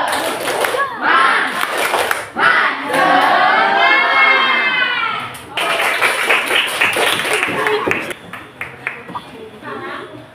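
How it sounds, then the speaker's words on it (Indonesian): Schoolchildren in an Indonesian classroom shout a loud, energetic spirit clap chant together, rhythmic voices mixed with claps for several seconds, with a teacher's voice leading. "Tepuk semangat."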